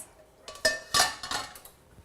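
A steaming pot shifted on a kitchen stove to the back burner, a few quick metallic clanks and scrapes of pan on grate, close and fairly quiet.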